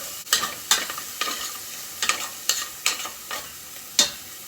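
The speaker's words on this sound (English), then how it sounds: "we're going to add in 1 cup of diced onion and give it a quick stir" One cup of diced onion stirred into bacon grease in a pot: a run of crisp, close scraping strokes roughly every half second over a soft steady sizzle, with no voices.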